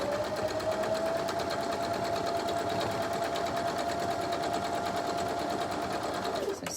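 A sewing machine stitches fabric for a woven ribbon star quilt block, running in a fast, steady mechanical whir close by for several seconds before it stops.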